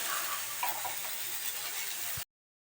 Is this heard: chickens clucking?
no